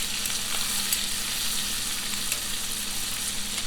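Shrimp frying in a pan sizzle and crackle steadily up close, a continuous bright hiss with scattered pops and no voices over it.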